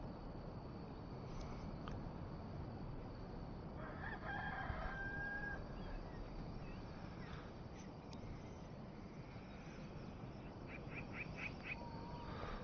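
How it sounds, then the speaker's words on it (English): A rooster crows in the Enshrouded game, a faint drawn-out call rising from a steady background hum, with a shorter call later. "now that the rooster's crowed"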